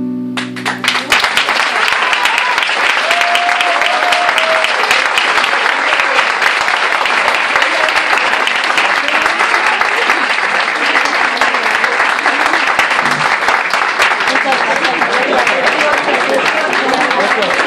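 An audience applauds after a tango performance, giving loud, sustained, dense clapping that fills the whole stretch after a brief musical ending at the start.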